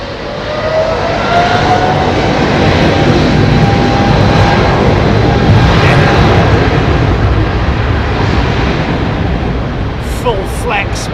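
A heavy jet airliner comes in to land at Heathrow at night with a loud, continuous, close roar that holds steady throughout, while people nearby speak over it.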